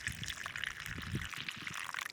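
Pomegranate juice poured into a tumbler for measuring, a faint continuous splashing trickle of liquid, close but quiet and alone.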